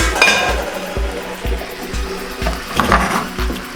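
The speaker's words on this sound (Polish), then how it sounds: "Makaron wędruje na patelnię z łososiem." Drained pasta tipped into a frying pan with salmon, giving a wet sizzle and soft slapping, steady and close throughout with a low rhythmic thumping underneath.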